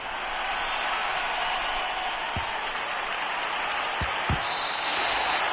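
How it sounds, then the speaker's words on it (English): Crowd applause from a Madden 2022 football game broadcast, a steady broad wash of clapping and cheering that holds for the whole stretch, with a few low thumps near the end and no talk over it. "How about some applause for the defense there?"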